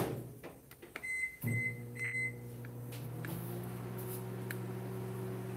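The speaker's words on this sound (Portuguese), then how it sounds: "Lá para o micro-ondas." A microwave oven runs while chocolate is being tempered. Early clicks and a few short beeps give way to a steady, low, even hum that carries on to the end.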